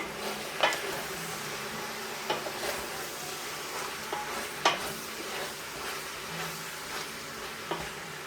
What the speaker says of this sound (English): That pork belly needs time to fry it.